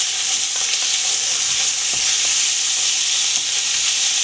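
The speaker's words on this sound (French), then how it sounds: "Donc il faudra tourner régulièrement. Pour que les saucisses prennent de la couleur" Sausages fry in a pan with a constant close hiss of sizzling fat, while a utensil is moved through them with light taps and scrapes at irregular intervals.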